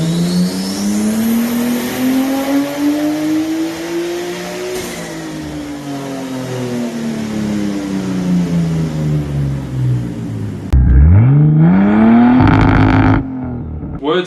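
A modified Nissan R34 Skyline with an RB engine, bigger fuel pump, injectors and Haltech ECU making 305 kW at the wheels revs and pulls through gears loudly and close, pitch climbing then dropping, with a sharp rev burst near the end.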